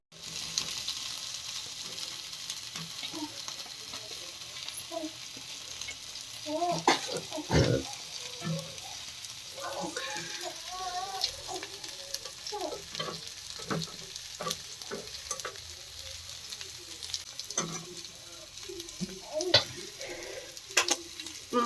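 Fish frying on a tawa under a cover, a steady sizzle with scattered pops and scraping clatters of a utensil, while voices murmur faintly now and then in the background.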